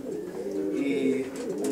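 Pigeons cooing inside a pigeon loft, a close, steady run of soft throaty coos carrying through the whole moment with no talk over it.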